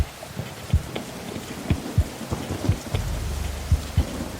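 Steady rain falls on surfaces while repeated low thunder thumps sound at short, uneven intervals, close and heavy, with no voices.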